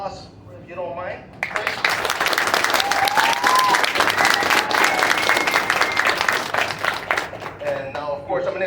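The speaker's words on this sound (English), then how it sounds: "a round of applause, if you don't mind" A crowd at a Killer Klowns From Outer Space cast panel gives a sustained burst of loud applause that runs for several seconds, with a voice talking briefly before it starts and again as it fades.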